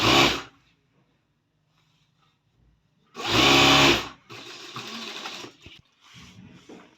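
Sewing machine stitching a seam on a gents kurta, running in loud, close bursts with near-silent pauses between them, followed by a lighter, steadier stretch of stitching.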